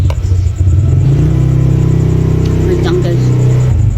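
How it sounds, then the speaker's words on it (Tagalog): A motorcycle engine rumbles and revs nearby while passing during a family dinner, loud and steady for several seconds under a brief spoken remark. "May motor."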